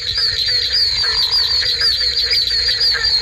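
A dense chorus of frogs and toads calls from a pond in southern Florida, with barking tree frogs, gopher frogs, oak toads and pine tree frogs among them. A shrill, steady trill carries above many overlapping croaks, loud and continuous.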